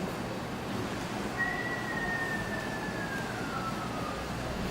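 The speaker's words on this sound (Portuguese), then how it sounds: "ouvi um assobiozinho" A single thin, high whistle glides slowly downward for a few seconds over a steady background hum.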